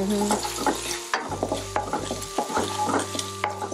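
Ingredients stir-fried in a pan until golden, for a homestyle Shanghai vegetable rice with garlic and mushrooms: a steady sizzle with scraping and clicking from the spatula, heard close over a low, steady hum.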